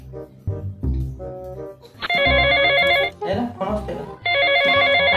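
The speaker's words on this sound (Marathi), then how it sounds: "बाई यांच्या फोनला दमच नाही, सारखा दिवसभर येतोय." A mobile phone ringtone chimes in two bright, repeating bursts, loud and close, with talk and other sounds in between the rings.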